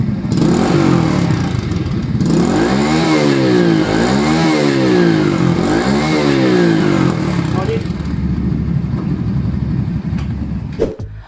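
A Euro Motor Peak 110 underbone motorcycle idles loudly and close after a kick start, its engine revved three times in rising-and-falling swells before settling back, with a short sharp click at the very end.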